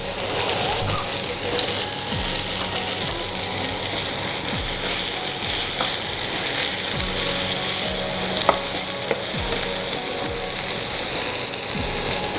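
Diced potatoes for a fasting-day dish with green chillies fry in a pan, a steady sizzle broken by repeated scraping strokes of a spatula as they are turned, with no talking.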